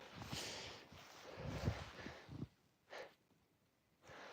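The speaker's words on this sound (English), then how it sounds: "you can hear his big sniffs" An animal snorts and takes several big, breathy sniffs close by, in rough bursts with brief quiet gaps between.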